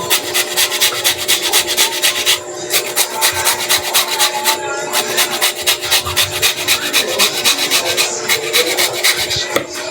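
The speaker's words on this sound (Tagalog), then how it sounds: "Ayan, ginagadgad para maging pinong-pino siya." Santol fruit being finely grated by hand, a steady rasping scrape repeating in quick even strokes throughout, loud and close with brief pauses between runs, no talking over it.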